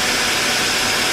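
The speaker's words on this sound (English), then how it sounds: "I've got a 6/2 per inch blade on my bandsaw, and it really makes quick work of the Corian." Bandsaw with a 6 teeth-per-inch blade cutting through Corian: a loud, steady hissing whir with no breaks over its short span, no voices present.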